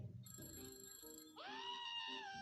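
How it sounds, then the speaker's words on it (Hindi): A telephone bell rings as a story sound effect: a quiet electronic ring that breaks into a rising, wavering ringtone, with no voices. "तभी फोन की घंटी बज उठी।"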